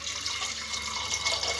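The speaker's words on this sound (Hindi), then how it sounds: "तो अब डालेंगे जी इसके अंदर पानी," Water pours steadily into a steel pressure cooker holding soaked, washed lentils, a continuous close splashing and gurgling stream with no voices over it.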